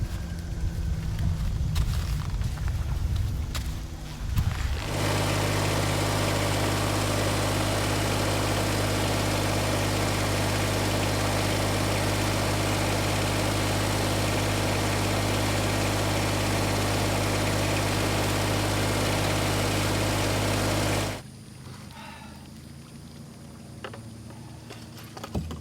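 A Kubota BX2370 compact tractor idles steadily and close while moving a dock, a constant mid-pitched engine hum that runs unbroken for most of the stretch, with quieter clunks and ambient noise before it starts and after it stops.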